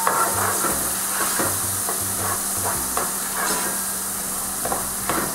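Onions, garlic and pepper sizzle steadily in hot oil in a pan, a close, continuous frying hiss with soft scraping stirs and light clinks at irregular intervals. No voice is heard.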